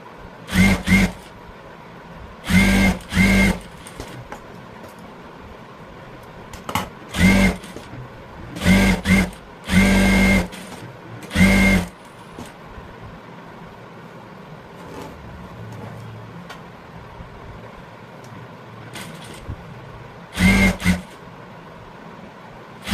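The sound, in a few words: sewing machine stitching a blouse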